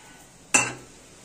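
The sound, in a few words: frying pan being moved off the stove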